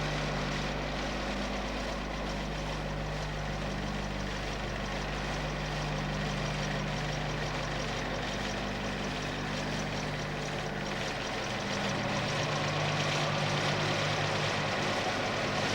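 A Chrysler UK car engine fitted with twin Weber carburettors idles in a steady, even drone, with a deep low rumble that barely changes and picks up slightly near the end.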